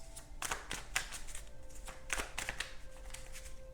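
Close, crisp riffling of Rider-Waite tarot cards being shuffled, several quick bursts of flicking with short pauses between, no talking.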